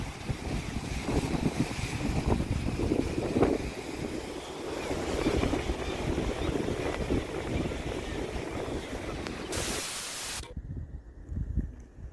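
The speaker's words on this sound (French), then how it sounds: "Bon, il y a un petit peu de vent." Steady wind buffets the microphone outdoors on the Vendée coast at Saint-Jean-de-Monts, a continuous rushing roar that ends in an abrupt cutoff near the end.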